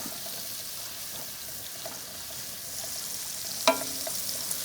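Lobster with ginger grilling gently in a pan over low heat, a soft continuous sizzle with one brief clink of a utensil near the end and no speech.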